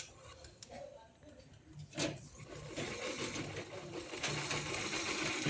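A pedal-operated sewing machine runs with its wheel turning, giving a steady mechanical ticking clatter that grows louder and busier toward the end.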